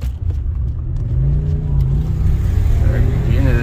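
A Honda Civic EF sedan drives through a quiet, tree-lined residential neighborhood, its engine droning and rising steadily in a loud, close cabin recording with wind noise and a voice talking over it.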